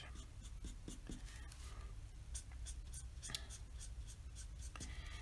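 An Ohuhu alcohol marker scratches across paper while coloring, a close, quiet series of short rhythmic strokes with soft scratchy texture.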